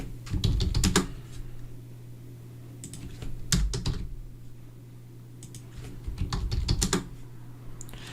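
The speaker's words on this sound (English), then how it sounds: "I was typing that wrong" Quick bursts of computer keyboard typing, made while texturing a medieval bucket in Substance Designer and Substance Painter, come in three separate clusters of clicking keys with quiet pauses between them.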